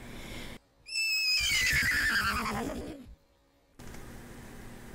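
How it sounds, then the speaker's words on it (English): A single loud, close horse neigh rises into a long shrill whinny that shudders and falls away over about two seconds, set off by brief quiet before and after. "she heard a loud, ear-splitting neigh. It was horses!"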